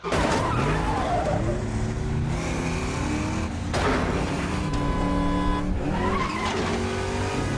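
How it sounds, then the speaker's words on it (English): Car chase from the film Ronin: engines roar loudly and tires squeal and skid without a break, with revving cars passing close by. Several long screeches rise and fall throughout, and no voices are heard. "I think this car chase is absolutely brilliant."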